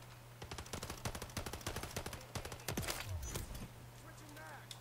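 Rapid automatic fire from a BP50 rifle in the video game Call of Duty: Modern Warfare III, loud repeated shots in quick bursts, with other game effects near the end.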